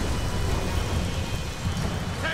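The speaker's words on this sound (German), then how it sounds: "Und das Ganze hier während des Gewitters." Steady rain pours during a thunderstorm in the Tomb Raider video game, a continuous moderate hiss with low rumbling underneath and no voices.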